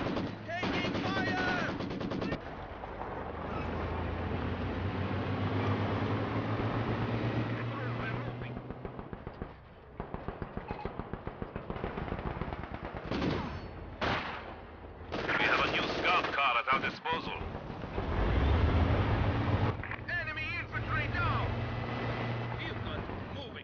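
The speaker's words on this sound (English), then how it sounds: "Machine gun has been silenced." Company of Heroes 2 battle: sustained bursts of machine gun fire rattle over a rumbling engine and explosions, with in-game soldier voices calling out between volleys.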